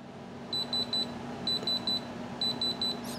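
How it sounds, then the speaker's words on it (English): A Diamond Selector II diamond tester gives three quick bright electronic beeps, repeated in three evenly spaced sets, with a faint steady hum underneath. "If you hear those three beeps"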